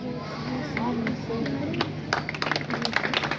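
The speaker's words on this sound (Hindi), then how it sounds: "तालियों से स्वागत करते हुए सभी बच्चे।" Children at a primary school clap in welcome, a burst of scattered, close handclaps rising over a background of talk and crowd murmur.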